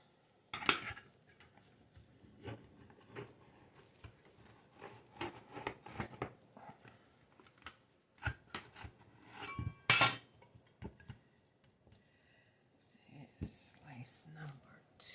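Knife cutting through a bar of rebatched melt-and-pour soap: a few soft scraping slices and sharp clicks spread out over quiet stretches, close by, with faint whispery handling noise between cuts.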